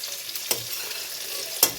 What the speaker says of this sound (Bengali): এই যে বাসি ভাত দিয়ে ভাজা ভাত ডিম পেঁয়াজ দিয়ে লঙ্কা দিয়ে ভাজা ভাত